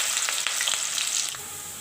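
Potatoes dropped into hot oil start to fry with a bright, hissing sizzle and quick bubbling crackles close by, easing slightly toward the end, with no voices.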